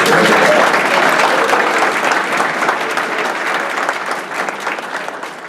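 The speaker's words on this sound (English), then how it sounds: "Give them all a round of applause" An audience claps loudly in sustained applause that slowly fades a little toward the end.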